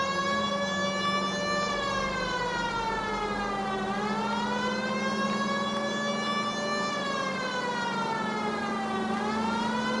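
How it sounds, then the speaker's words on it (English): A police car siren in the video game L.A. Noire wails steadily, rising and falling in long sweeps over an engine hum, loud and continuous with no talking. "Whoops, that's a siren."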